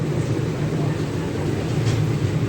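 A Venkatadri Express train from Chittoor pulls into a station with a steady, loud low rumble and rolling wheel noise that holds constant throughout.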